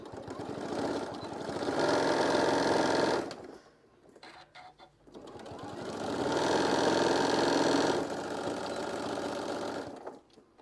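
A sewing machine hums in two steady runs with a short pause between them, close and fairly loud, while stitching a shoulder wrap closed.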